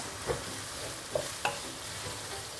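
Pork pieces frying over medium heat in a pan while being stirred continuously, a soft steady sizzle with a few sharp clicks and scrapes of the utensil against the pan, fairly quiet and close, no talking.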